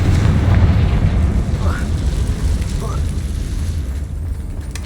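Spell explosions from the Bombarda and Confringo charms in the Hogwarts Legacy video game, a steady loud rumbling roar of blasts with bright crackle throughout, heavy low-end boom sustained across the whole stretch.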